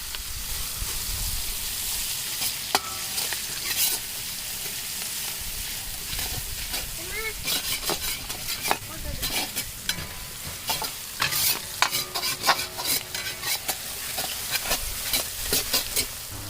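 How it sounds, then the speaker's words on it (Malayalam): Sliced onions fry in sunflower oil for chicken pulao with a constant close hiss, while a spoon stirs them in frequent scraping, clicking strokes that cluster more densely in the second half. "ആ സവാള നമ്മൾ സ്ലൈസായി കട്ട് ചെയ്തിട്ട് നല്ല അത്യാവശ്യം ബ്രൗൺ ആവുന്നവരെ നമ്മളൊന്ന് ഇളക്കി വാറ്റിയെടുക്കുക."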